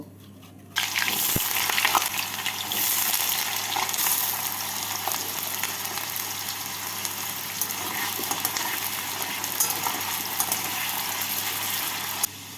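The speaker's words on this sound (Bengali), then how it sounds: "এবার এই তেলের মধ্যে দুটো টুকরো করা আলু ভেজে তুলে নেব" Two potato pieces drop into hot mustard oil in a wok, bursting into a loud, sudden sizzle that keeps up a steady, bubbling crackle with scattered pops, close and alone.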